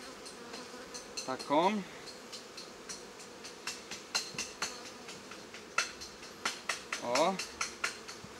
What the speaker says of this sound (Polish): żeby te pszczoły typowo mi tutaj nie lądowały tak na ziemię